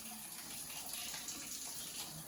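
Lukewarm tap water gushes steadily from a faucet for pizza dough, a close, even rushing hiss heard alone for a couple of seconds.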